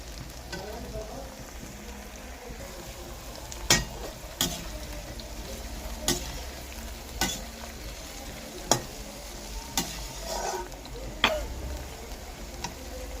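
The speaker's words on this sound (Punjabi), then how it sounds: "ਜਦੋਂ ਆਪਾਂ ਇਸ ਤਰ੍ਹਾਂ ਕਰੇਲਿਆਂ ਨੂੰ ਤਲ ਲਵਾਂਗੇ" Bitter gourds fry in oil in a pan with a steady soft sizzle, broken by regular sharp scraping taps as they are stirred and turned, close by.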